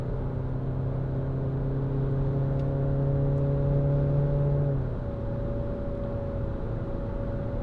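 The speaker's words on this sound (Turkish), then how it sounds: "Yokuş çıkıyoruz. Hiç ayağımı gazdan çekmedim." Opel Grandland X accelerating uphill at full throttle, heard from inside the cabin as a steady, rising engine drone that shifts pitch abruptly partway through, likely a gear change, with no talking.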